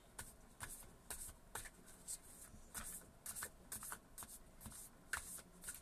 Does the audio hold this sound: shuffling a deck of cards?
yes